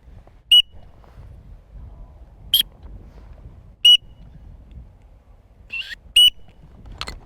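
A green-winged teal duck call blown in short, sharp whistled peeps, five brief tweets a second or more apart, loud and close over a quiet low background.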